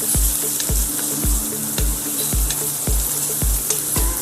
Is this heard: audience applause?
no